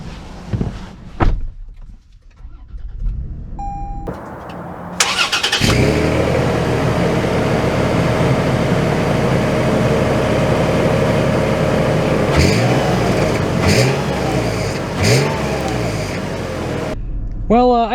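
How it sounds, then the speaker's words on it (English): A 2023 Toyota 4Runner 40th Anniversary Edition pulls away on a test drive after door and engine-start sounds, its engine note rising into a steady, loud cabin drone with a few bumps over the road. "let's kind of pick this up for a interesting test drive of sorts"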